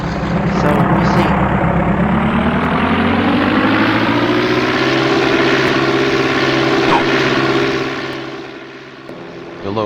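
In a video game, an aircraft engine roars in a loud, continuous drone whose pitch slowly rises, then the sound eases and dips near the end.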